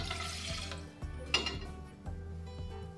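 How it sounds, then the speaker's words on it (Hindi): Water from a glass poured into a saucepan for an Ayurvedic kadha, a brief splashing pour with light metallic clinks of the pan, close and fairly quiet. "इसमें हम डालेंगे पानी। तो 1 गिलास पानी है"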